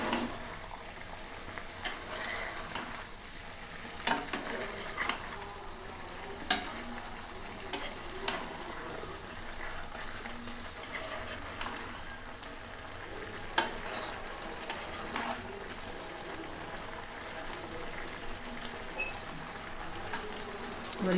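Spicy chicken stew is stirred in a pan over a steady sizzle, with a spoon scraping and clinking against the metal at irregular intervals throughout.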